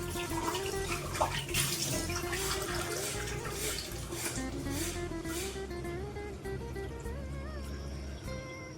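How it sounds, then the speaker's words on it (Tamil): Water pours steadily into a cooking pot of sour spinach (pulichai keerai), a continuous splashing, trickling rush that stays even for several seconds, close by with no talk. "வந்து அதுக்கு தேவையான தண்ணி ஊற்றிட்டு"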